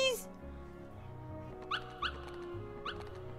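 Dalmatian puppies in the Kingdom Hearts game yip and whimper in a few short, high, faint squeaks over a low background game soundtrack.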